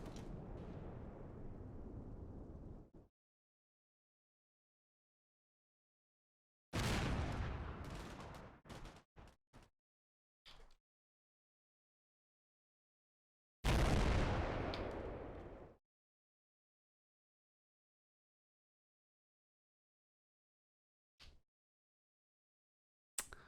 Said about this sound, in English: That's just a secondary explosion.